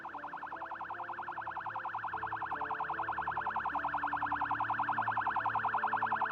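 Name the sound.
police siren left on in a video game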